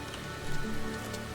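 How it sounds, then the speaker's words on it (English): Steady rain falls in the Farmer's Dynasty farming game, a continuous even patter of drops on surfaces with a slight swell midway and no voices. "today is rainy"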